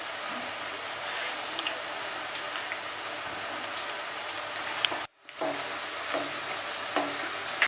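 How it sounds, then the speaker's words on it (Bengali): Batter-dipped topse fish fry in hot oil over a high gas flame, giving a steady, close, dense sizzle that drops out briefly for a moment before resuming. "এবার আমি ব্যাটারে চোবানো মাছগুলোকে সুন্দর করে এক এক করে ভেজে নেব, খুব ভালো করে দুপিঠটা ভেজে নেব"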